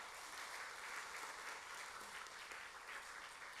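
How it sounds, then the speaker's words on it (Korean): A church congregation applauding during a Sunday morning service, steady dense clapping throughout, fairly faint and even, with no talk over it. "박수하겠습니다."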